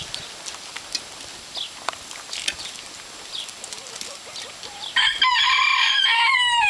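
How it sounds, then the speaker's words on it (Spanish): A hen and a peacock call outdoors in a farmyard. Scattered clucks and chirps lead into a loud, sustained, harsh peacock call near the end, with no speech. "La gallina mayor. El pavo, mira el pavo real, qué bonito."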